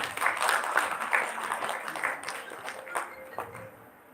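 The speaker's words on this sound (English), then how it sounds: "Dr. Sanchita Tiwari, a huge round of applause." A crowd at a live dental event applauds loudly and steadily for several seconds. The clapping starts dense and thins out toward the end, with some voices mixed in.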